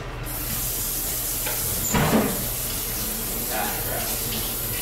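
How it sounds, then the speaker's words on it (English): Dishes rinsed under a running kitchen tap, a steady close hiss of water with a brief louder splash near the middle, heard alone without talk. "Let's get these rinsed out."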